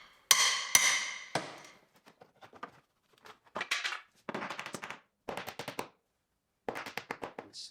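Salvaged rusty metal wall panel being knocked out of a shop wall with a hammer, a close series of sharp metallic blows coming in uneven bursts with short pauses between them.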